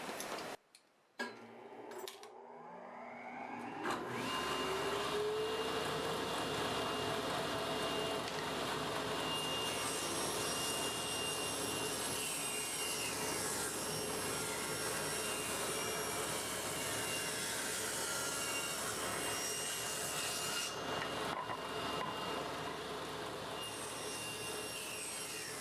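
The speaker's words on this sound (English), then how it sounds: "I'm going to turn my dust collector on and we'll do some cutting." A workshop dust collector starts with a rising whine and then roars steadily while scrap wood is ripped on a saw, with a constant loud mechanical hum and cutting noise and no voices.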